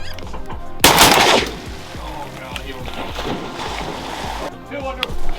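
A loud, close shotgun blast cracks out from a duck blind while hunting early-season wood ducks over decoys, followed by a lingering rumble and splashy noise, with people talking around it.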